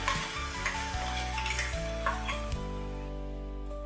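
Ground tomato paste tipped into a pan of frying masala with curry leaves and paste, sizzling steadily while a spoon stirs and scrapes in close, even bursts, with no talking.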